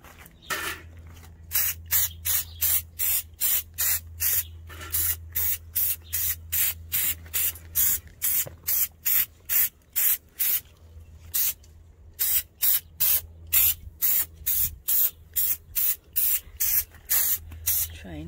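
Repeated short bursts from a sprayer misting crop plants to kill spider mites, fired in a steady rhythm of about one spray every half second with brief pauses, loud and close over a low background hum.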